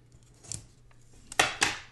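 Scissors snip through planner paper, two or three quiet, crisp cuts close by with faint rustling between them.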